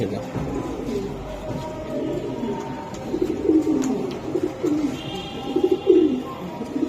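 Racing pigeons coo at a club loft, with low throaty cooing phrases running through the clip amid background voices and chatter, several louder coos near the end.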